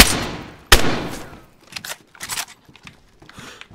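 Video game gunfire crackles out in a loud, close burst of shots, then gives way to a few quieter scattered pops.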